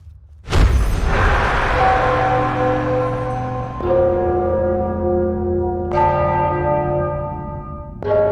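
Deep church-style bells ring loud and close in the fantasy video game Enderal, four strikes spaced a couple of seconds apart, each leaving a long humming decay that overlaps the next.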